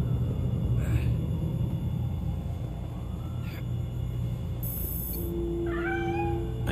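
A cat meows in the Gotham Knights video game, one clear drawn-out meow near the end over a low ambient rumble, preceded by a few faint scattered sounds.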